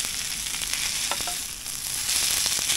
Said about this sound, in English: I'm gonna give this one last stir.